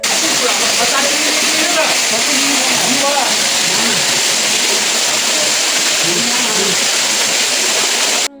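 Water rushing at Tada Falls, a dense steady roar of falling and flowing water at close range, with faint voices underneath.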